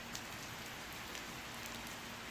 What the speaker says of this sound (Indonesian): Hujan lagi nih ya.